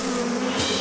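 Bees buzz in a cartoon scene at a hive, a steady, dense insect drone filling the whole brief moment at low level with no one talking.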